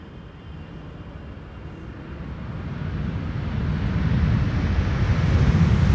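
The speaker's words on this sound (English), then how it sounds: "KLM flight 758 arriving from Panama City." A KLM airliner arriving at Schiphol from Panama City, a low, steadily rising jet rumble growing louder as it approaches, with no voices over it.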